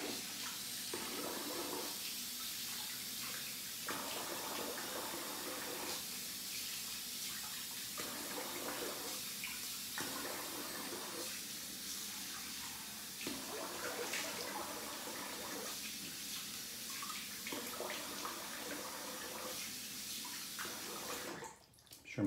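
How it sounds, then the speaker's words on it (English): Water runs from a bathroom tap during a rinse-off after a shave, a steady splashing stream that changes tone at intervals as hands move through it, fairly quiet and continuous, with no talking. "I'm going to rinse off here."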